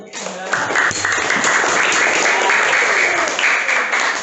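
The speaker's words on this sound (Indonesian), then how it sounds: "Tepuk tangan." Classroom applause from schoolchildren clapping together, fairly loud and continuous, with a voice briefly audible at the start.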